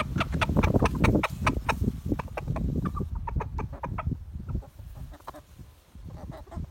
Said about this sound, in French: il était en train d'appeler les poules pour leur dire qu'il avait trouvé de la nourriture